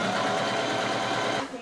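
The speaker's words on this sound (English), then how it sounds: "just let it flow through that sewing machine" A sewing machine stitches fabric steadily at a fast, even whirring rhythm, then slows and stops at the end.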